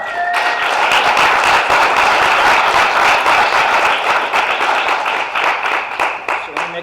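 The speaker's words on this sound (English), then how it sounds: "I just want a quick shout out and a clap for my son, Pat, if you don't mind." A room full of people clapping for a son named Pat at a business presentation, steady dense applause that peaks early and fades over about seven seconds, with a voice briefly at the start.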